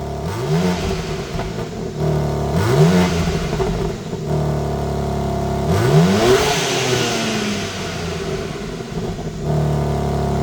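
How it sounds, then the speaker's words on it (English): A 2025 BMW M4 engine with stock exhaust revs sharply three or four times, each rev climbing quickly then dropping back to a throaty idle, loud and close. "Let's hear what it sounds like with a few revs."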